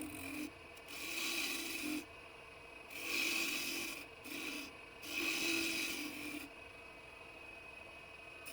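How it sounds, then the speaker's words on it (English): A plug for a wooden salt shaker is shaped on a woodturning lathe, with rasping tool-on-wood scraping in a few bursts of a second or two over a steady quiet motor hum. "First, I shape the exterior of the plug so that it continues the main form of the salt shaker."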